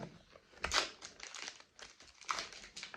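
Pokémon cards are shuffled close by, with short bursts of crisp card flicks and soft crinkling in quick, irregular clusters.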